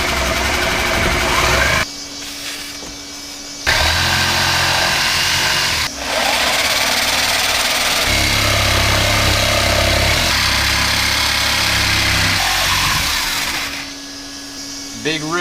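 Power tool cutting into the fiberglass of an old Catalina 30 sailboat, a loud whining, grinding drone that starts and stops in several bursts, with a lower rumbling hum beneath and short quieter pauses between cuts.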